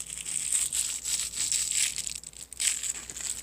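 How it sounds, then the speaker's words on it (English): Crinkly, scrunchy cat toys being handled at home, giving a continuous close crackling and crumpling rustle that swells and dips in bursts over a few seconds, with no talking. "So I get like these little scrunchy ones. They make little sounds."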